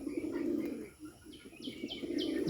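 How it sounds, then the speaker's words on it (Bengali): A Bombay pigeon gives its low gum-gum coo in soft rolling bursts, nearby and fairly faint, with a few high chirps over it. "সুন্দরভাবে ডাকে বোম্বাই কবুতর দেখুন অনেক সুন্দরভাবে ডাকে"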